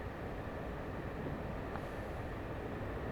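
A southbound train passes in the Train Sim World 5 video game on the West Coast Main Line, a steady low rumble of wheels and engine that holds evenly throughout at moderate volume with no talk.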